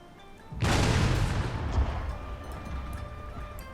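A single heavy ship cannon shot in Total War: Shogun 2 naval battle at Miyako Bay, a sudden loud boom that rolls into a long, rumbling decay over several seconds.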